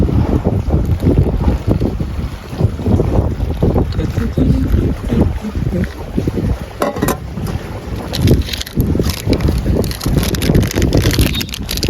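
Strong gusty wind buffets the microphone on Beras Basah island in Bontang, East Kalimantan, a loud, rough, continuous roar with uneven bursts throughout.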